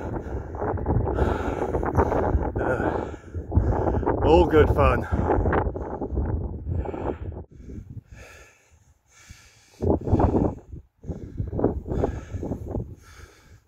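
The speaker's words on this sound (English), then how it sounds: "it's a bit windy up here" Wind gusts on Cley Hill, a hilltop near Warminster, batter the microphone in heavy low rumbles, broken by a few quieter lulls, while a person speaks over the blustery noise.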